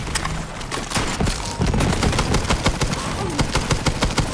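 Dense, continuous rattle of rapid gunfire in the Borderlands 3 shooter, loud and sustained throughout with sharp repeated cracks layered over a busy, noisy backdrop.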